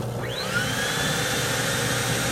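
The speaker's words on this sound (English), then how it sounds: "there you can hear the vacuum come on" An Advance Aquaclean 15 HD carpet extractor's vacuum motor starts up with a rising whine, then holds a steady, loud, continuous drone close by.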